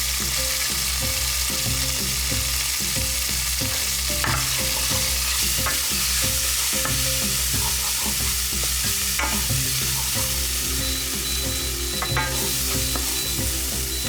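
Chili paste and ground turmeric sizzle steadily in hot oil in a heavy-based pan, with a spoon stirring and scraping through it in a constant, close, loud frying hiss.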